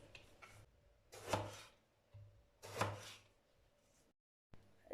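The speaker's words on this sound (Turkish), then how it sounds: "Patlıcanlarımı doğramakla başlıyorum." A knife chops eggplants on a board for Gaziantep-style eggplant kebab, two distinct cutting strokes with softer rubbing between, close and fairly quiet.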